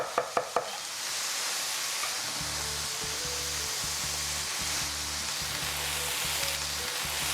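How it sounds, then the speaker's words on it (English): Food sizzles steadily in a hot skillet while a knife chops a few sharp times on a board at the start, and a stir in the pan follows, for a puttanesca sauce with tuna, eggplant, zucchini and capers. "Let me just chop it a little more."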